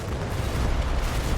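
A Panzer IV tank gun fires on a half-track in the Combat Mission game, a dense, rumbling boom sustained with low-end energy across the whole moment, fairly loud and with no voices.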